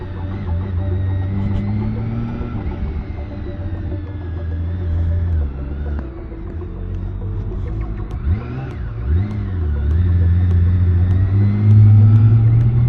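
A 2024 BMW K1600B bagger motorcycle pulls away with a smooth, steady engine rumble that rises and falls through gear changes, heard close and continuous throughout.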